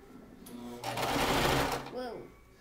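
A home sewing machine stitching two pieces of fabric held together by a beginner, a steady mechanical whir that swells to a loud run and then fades, with voices talking around it.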